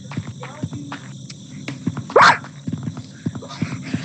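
A dog lets out one loud bark close by amid scattered thumps and clatter, with occasional voices nearby.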